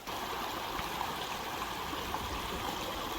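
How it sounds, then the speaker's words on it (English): A river in the Sierra Nevada rushes steadily over rocks, a constant close hiss of flowing, splashing water with no pauses and no voices. "Here's a last little bit of this awesome river."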